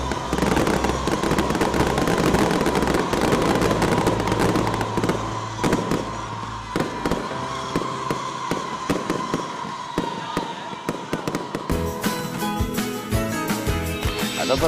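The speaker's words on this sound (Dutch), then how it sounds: "dat was dus afgelopen avond de Vlootschouw en het waanzinnige vuurwerk" Fireworks at the Vlootschouw boom and crackle in dense, continuous bursts, loud and layered, with rapid popping salvos toward the end and no talk over them.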